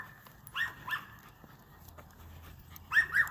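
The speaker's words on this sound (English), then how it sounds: "Don't you love the sound of dogs all around you? Yeah, at least, a little itty bitty dog." A small dog gives high, sharp yapping barks in two short pairs, a few seconds apart, over faint room noise.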